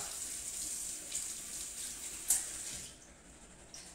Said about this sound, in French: vous les rincez donc dans une passoire sous l'eau froide